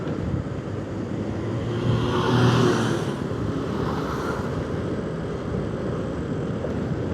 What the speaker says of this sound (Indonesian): Nah, ini kendaraan besar kayak gini nih